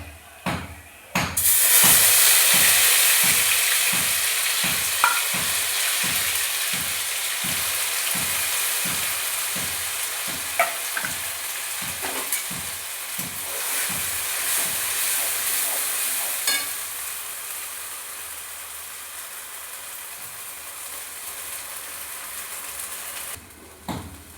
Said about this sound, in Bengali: ফোড়নটা হয়ে গেছে আমি এবার মানপত্র বাটারটা দিয়ে দিলাম